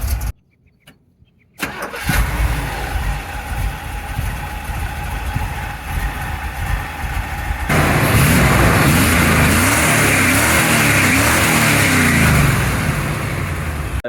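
A 1975 Chevrolet C10 engine with timing still off cranks and catches after a brief silence, idles roughly, then revs up to a loud, sustained roar before easing off.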